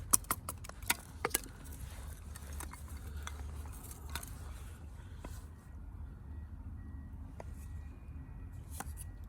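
A Panacea knife with a steep wedge-shaped blade splits wood, giving sharp, close knocks and cracks clustered at the start, then sparser taps over a quiet outdoor background.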